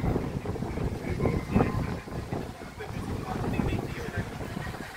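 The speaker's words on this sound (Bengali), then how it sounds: "প্রচণ্ড ঠান্ডা, প্রচণ্ড হাওয়া দিচ্ছে" Strong, cold wind in Zaandam, Netherlands, buffets the microphone in a continuous low rumbling roar, with faint voices under it.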